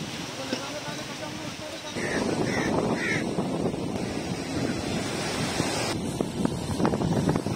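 Sea waves along the Gwadar coast in Pakistan produce a steady, broad wash of surf mixed with wind buffeting the microphone, with someone talking over it.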